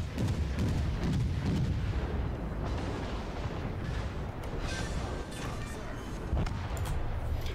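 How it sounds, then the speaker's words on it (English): A naval battle in the World of Warships video game, with a torpedo striking an enemy ship that is on fire: a dense, continuous roar of booming explosions and gunfire rumbles loudly throughout without pause. "So, we hit him with the torpedo"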